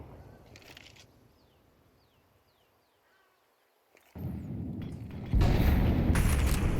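An incendiary grenade bursts in Counter-Strike during an ESL Impact League match, a loud crackling, roaring burst of fire that erupts after quieter game ambience with faint chirps, then swells even louder and keeps burning.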